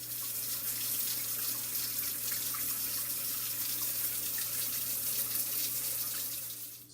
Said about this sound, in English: I'm going to take my hose and I'm going to spray jet into it